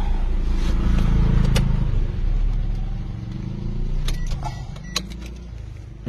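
Toyota Avanza engine idling rough and in need of a tune-up, a close, uneven rumble with scattered ticks and clatters, gradually easing slightly.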